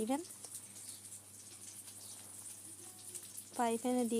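Eggplant pieces fry in hot oil in a frying pan, giving a soft, steady sizzle with a louder crackle near the end. A person talks over it.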